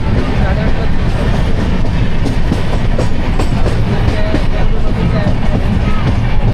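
Crowded local train pulling into Vasai station, a steady loud rumble and rattle of wheels on rails with faint murmuring voices underneath.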